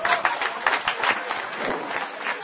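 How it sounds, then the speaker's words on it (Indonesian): An audience at a religious talk gathering claps together in a steady burst of applause, close and full, filling the whole moment with no speech on top. "tepuk tangan untuk beliau"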